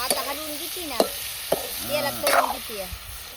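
Eggplant curry (kalvan) with masala-stuffed eggplants being stirred in a pan: several distinct scraping stir strokes over a steady background sizzle, close and clear, with no talk.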